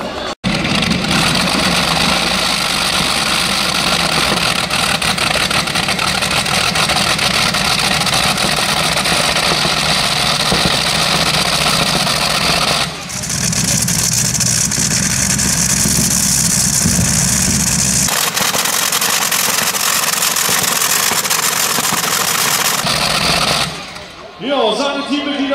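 A tractor's engine at a 2.5-tonne free-class tractor-pulling event in Grimmen, a loud, steady, close mechanical drone that runs almost unbroken for the whole stretch, shifting in tone midway, with no clear talk over it.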